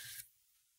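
A fine mist sprayer sends one short, soft hiss of water over an acrylic paint palette, followed by near silence.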